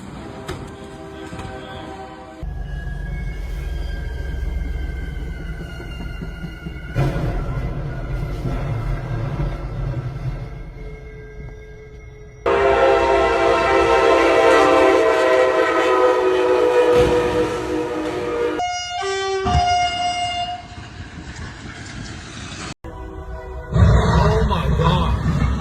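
A train roars past a crossing in downtown Forney with long, loud horn blasts, striking an 18-wheeler stuck on the tracks while hauling a huge wind turbine blade; heavy rumble and rail noise continue throughout, with people talking over it.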